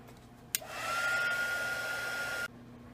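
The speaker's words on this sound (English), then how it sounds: "let me go ahead and dry that real quick" Hair dryer drying paint on a small Valentine-themed craft card, switched on with a click and blowing steadily for about two seconds before cutting off abruptly; loud and close, no voices.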